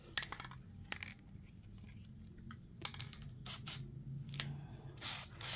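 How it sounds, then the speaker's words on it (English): Several short hissing bursts from a Plasti Dip spray can, quiet at first and then stronger near the end, with small clicks and rattles between them. "Test spray this."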